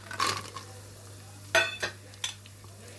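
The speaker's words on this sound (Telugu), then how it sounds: "వీటిని కూడా 2 నిమిషాలు వేగనిచ్చేసుకుందాం" Cashews and raisins frying in a pan, giving a quiet sizzle with a few sharp clinks and stirring scrapes spaced through a few seconds over a low steady hum.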